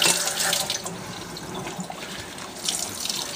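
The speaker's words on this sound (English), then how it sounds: "Now you can drain that water, see?" Water rushes and gurgles out of a kitchen sink after washing dishes, a steady close wash of running and draining water with faint drips and no talking.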